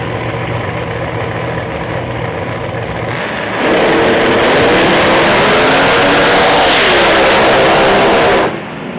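A screw-blown 6th gen Camaro and a nitro 6th gen Camaro idle at the drag strip, then launch with a sudden, very loud roar that holds for several seconds before cutting off.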